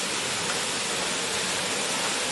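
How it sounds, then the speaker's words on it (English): Waterfall below stepping stones near Roche Abbey in Maltby, Rotherham, England, giving a steady, dense rush of falling water that holds evenly throughout with no voices. "Just beneath this is that waterfall that you saw."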